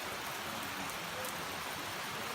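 Rain falls outside a cabin, a dense continuous hiss of drops on surfaces, steady and fairly close throughout with no talking.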